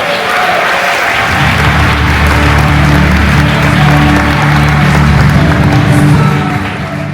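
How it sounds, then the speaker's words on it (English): A live audience at a Walt Disney World show applauds loudly and steadily for about seven seconds, a dense wash of clapping with crowd murmur beneath and no talk over it. "let's continue clapping because James did so much very well at that"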